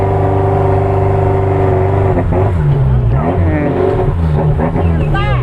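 A jeep engine drones steadily while climbing a steep mountain road in Ngargoyoso, Karanganyar, and people talk over it close by partway through.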